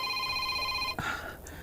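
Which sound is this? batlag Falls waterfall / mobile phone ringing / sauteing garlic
mobile phone ringing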